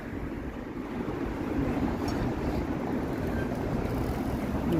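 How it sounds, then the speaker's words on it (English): Evening wind buffets a microphone outdoors on a Toronto city walk, a steady broadband roar with gusty swells and no one speaking. "It's windy, yeah, it's windy right now"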